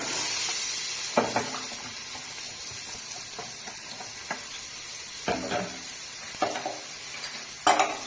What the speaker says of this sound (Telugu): ఫస్ట్ ఆయిల్ వేసుకున్నాం. ఆయిల్ వేడెక్కిపోయింది. ఆనియన్స్ పచ్చిమిర్చి